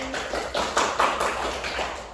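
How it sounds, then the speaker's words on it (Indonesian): A small class of students claps for a classmate, a short burst of scattered hand claps, fairly quiet and close, with a few louder claps standing out in the middle. "Tepuk tangan buat Mbak Putri."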